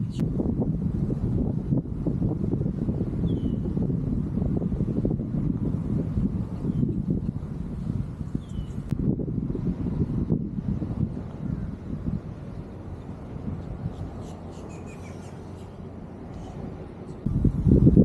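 Strong wind blows across an open par 3 golf course in Palm Beach, a steady low buffeting roar against the microphone that lasts throughout and eases slightly near the end.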